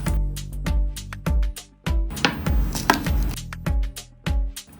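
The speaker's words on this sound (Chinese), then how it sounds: "一个洋葱切小块儿" A knife chops an onion into small pieces on a cutting board in close, loud, evenly spaced thuds, briefly quickening into a rapid flurry of cuts before settling back to a steady rhythm, with no talking.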